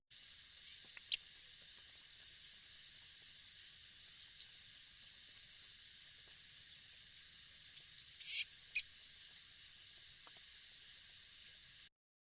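Frogs in waterlogged grassy fields in northern West Bengal call in a continuous high, chirping trill much like birds, steady at moderate distance, with a few sharper individual chirps popping out now and then.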